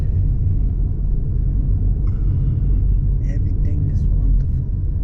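A car rolls along Going-to-the-Sun Road in Glacier National Park, a low, steady engine and road rumble close and constant, with a faint brief voice-like sound partway through.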